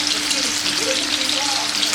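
Paneer frying in a pan gives a loud, close, continuous sizzling hiss that stays even throughout, with no talking.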